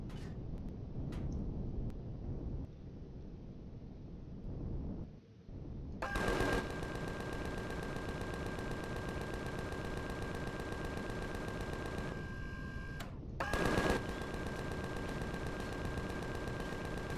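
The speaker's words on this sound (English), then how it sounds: "there's a load of sentry cannons there as well." Bursts of rapid automatic fire from sentry cannons in the video game Empyrion, long dense rattling volleys with a brief pause between them, preceded by quieter rumbling noise.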